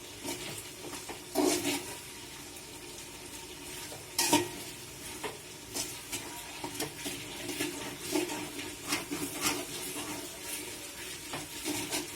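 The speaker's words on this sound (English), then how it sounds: "Fry them well till they are well cooked." Onions frying in a pan for chicken biryani, a continuous moderate sizzle broken by frequent clattering stirs and scrapes at an uneven rhythm, no one talking.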